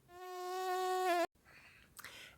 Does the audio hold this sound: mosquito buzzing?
yes